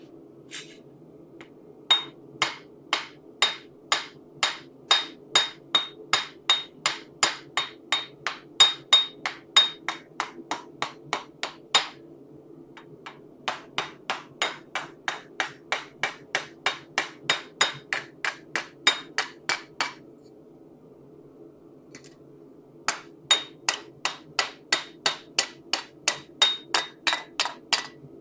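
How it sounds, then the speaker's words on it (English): A hammer striking metal while sleigh bells are crafted, in steady rapid rhythmic series of bright ringing blows, loud and close, broken by short pauses between runs. "I'm probably actually going to use this lovely hammer"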